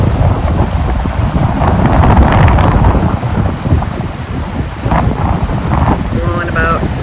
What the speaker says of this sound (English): See how well this DJI mic works out here in the wind?